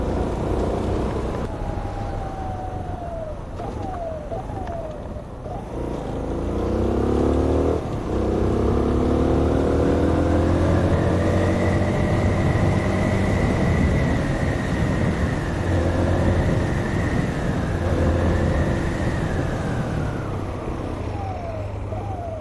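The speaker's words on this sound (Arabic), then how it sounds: "انا حارق بالموتور دابا، هذا ما خاصوش يوقف" Car engine revving hard with a snapped clutch cable, its pitch climbing and falling through repeated throttle sweeps, then holding at a high sustained whine, loud and close with no talk.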